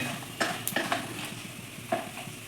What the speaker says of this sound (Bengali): পাঁপড় ভাজা হচ্ছে